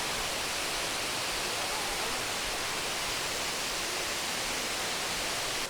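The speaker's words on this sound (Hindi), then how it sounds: "तो ये भी वाटरफॉल है बढ़िया सा।" Waterfall at Pachmarhi hill station, a steady, dense broadband roar of falling water that holds evenly from start to finish with no breaks.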